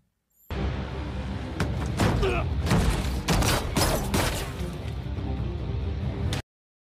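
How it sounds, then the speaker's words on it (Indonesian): Rapid gunfire crackles through a tense, loud movie soundtrack, sharp shots bursting over a heavy rumbling background before cutting off abruptly. "Sementara Jihyun dengan pistolnya menembak seorang lagi di kursi belakang."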